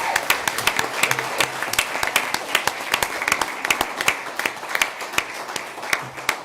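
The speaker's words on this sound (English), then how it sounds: "let's give her another round of applause." A round of applause at a county commission meeting, with many hands clapping steadily and evenly throughout a busy room and no talk over it.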